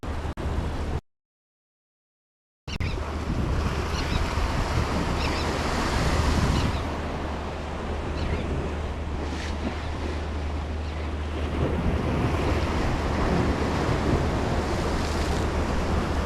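Ocean surf and strong wind at the shore during fishing, waves rolling in continuously with heavy wind buffeting the microphone; loud and steady, with a brief silent gap near the start.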